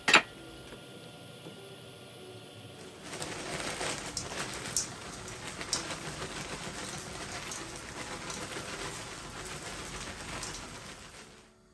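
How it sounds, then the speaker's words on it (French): About a litre of water pours into a tomato stew in a pot, a steady splashing rush that starts after a short quiet moment and runs on without speech. "Alors je vais mettre à peu près 1 litre d'eau"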